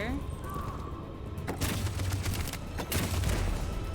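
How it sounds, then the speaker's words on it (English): Bursts of machine gun fire and booming gunshots in a war video game battle, loud and dense in the back half, with in-game voices talking over the shooting. "That machine gun is taking down everything that moves!"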